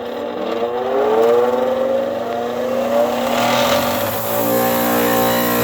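A bench grinder sharpens a lawn mower blade, its motor whining with a rising and falling pitch and a gritty scraping edge as the blade is pressed against the wheel, loud and close.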